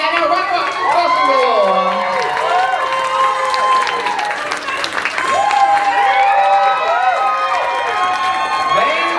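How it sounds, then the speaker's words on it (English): A crowd at a burlesque pageant crowning applauds and cheers loudly, with whoops and shouts over continuous clapping and a presenter's voice heard through the noise. "That's a round of applause for the beautiful and our runner-up, Possum"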